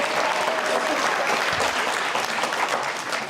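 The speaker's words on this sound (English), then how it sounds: "let's have one more round of applause for this graduating class" An audience applauds a graduating class at a guide dog school ceremony, a dense, sustained wash of many hands clapping that holds steady for several seconds.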